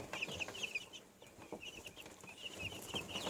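Young chicks in a brooder clucking and peeping, soft scattered high calls repeating close by against a faint background, no talk.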